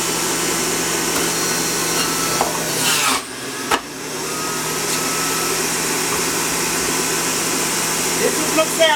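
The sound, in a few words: juicer juicing celery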